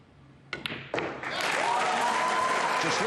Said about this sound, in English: Just listen to the crowd, listen to the noise